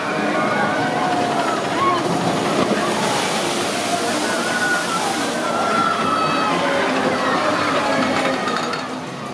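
A loud rushing splash of water as a ride boat plunges down at California's Great America theme park, a continuous roar of spray and churning water with faint voices in the mix.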